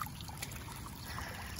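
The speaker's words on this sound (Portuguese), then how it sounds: "aqui corre água nascente o tempo inteiro" Spring water runs continuously over smooth rocks at Lagoa dos Patos in the Chapada Diamantina, a faint, close trickle with small splashes and no voices.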